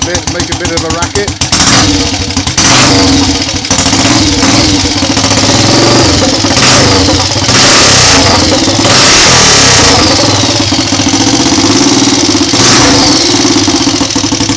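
Triumph Tiger Cub motorcycle engine revved hard with the throttle opened, loud and close, rising and falling in repeated bursts over a chattering idle.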